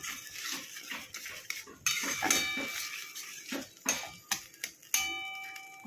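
Dhokar dalna being sautéed with sugar and tomato in a pan, quick clinks and scrapes of a utensil against the pan in an irregular rhythm, close and fairly quiet, no voices.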